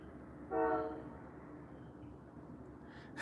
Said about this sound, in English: Dude, these trains are crazy down here.